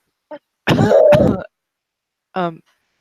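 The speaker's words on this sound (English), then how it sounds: "It kind of chokes, coughs." A person choking on a drink clears their throat and coughs in a short, harsh burst, followed by a brief splutter, close to the microphone.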